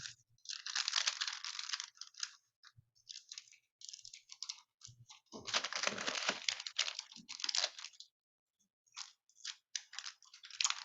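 Large sheet of paper being creased and folded into a window star, with crisp crinkling and rustling in close bursts separated by short pauses, quiet overall.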